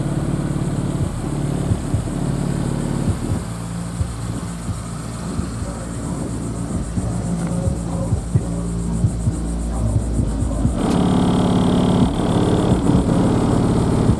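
Deep bass from a Peerless Tymphany STW350F subwoofer in a ported enclosure, mounted in the sound-deadened trunk of a vehicle, booms steadily and loudly throughout, swelling harder near the end.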